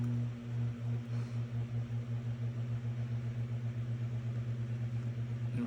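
An electric pottery wheel spins steadily while a handmade ceramic plate is thrown, giving a faint, constant motor hum with a soft, regular pulsing. No one speaks.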